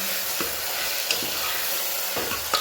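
Green garlic and cabbage stir-fried over a full flame, a continuous close sizzle with a few scraping strokes of a spatula through the vegetables.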